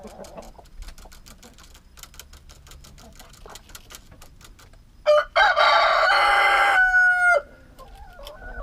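A rooster crows once, loud and close, in a backyard chicken coop, preceded by soft clucking and scratching ticks from the flock.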